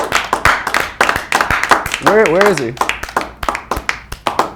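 A studio audience claps for a guest musician on a talk show, giving dense, sustained applause with individual sharp claps, while people speak over it.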